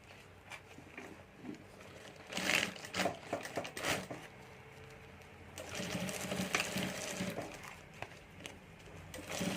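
A sewing machine stitches a handbag in a steady, close whirring rattle that runs in uneven bursts, with a brief pause and then a longer run.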